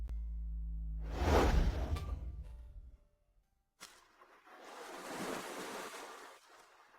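Sea waves wash onto the seashore in two surges. A loud, close rush fades to near silence, then a second, softer swell rises and slowly ebbs.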